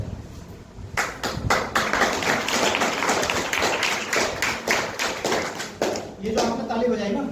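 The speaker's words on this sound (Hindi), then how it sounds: "ये जो आपने ताली बजाई ना, ये उन लोगों के लिए बजाई जो यहाँ पहुंचे" An audience claps throughout at a wellness company business-plan seminar, a dense, steady patter of many hands that stays loud from about one second in before thinning near the end.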